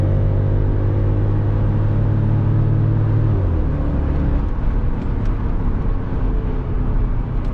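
BMW X5 with a 4.8-litre V8 engine on kickdown, a loud deep engine note that climbs in pitch as the revs rise, close and sustained with no talking.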